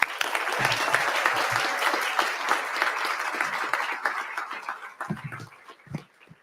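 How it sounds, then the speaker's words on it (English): Warm applause from a gathered crowd at a healthcare center ribbon-cutting grand opening, steady and fairly close at first, then thinning into scattered individual claps with a few louder hand strikes near the end. "Please help me give a warm round of applause for Dr. Sherry Utash, President of WSU Tech."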